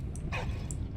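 A dog in the Valiant Hearts video game gives one quick bark or yip over a dense low rumble of game ambience.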